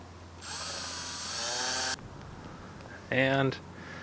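A drill whines through metal for about a second and a half, pitch rising, then a shorter high burst follows after a pause, boring a hole sized for a self-tapping screw.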